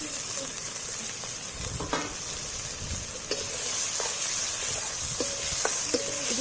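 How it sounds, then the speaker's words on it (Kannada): Finely chopped onions fry in about 50 grams of hot oil, giving a continuous bright sizzle with occasional scrapes and taps from stirring. "ಇದು ಚೆನ್ನಾಗಿ ಬ್ರೌನ್ ಆಗೋ ತನಕ ಹೀಗೆ ಫ್ರೈ ಮಾಡ್ಕೊಳ್ಳೋಣ."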